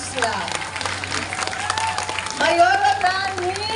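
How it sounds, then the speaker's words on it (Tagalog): Crowd applause at a community event for single-mother beneficiaries, steady clapping mixed with crowd noise and cheering voices, with a low hum underneath and a swell near the end. "Laksan ninyo ang palakpak,"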